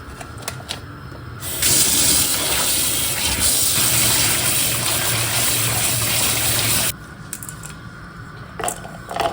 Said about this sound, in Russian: Я его промою.